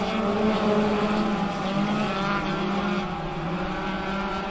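410 sprint cars race around Southern Oregon Speedway, a loud continuous roar of several engines blending together at a distance, droning steadily with a slight shift in pitch as the pack moves.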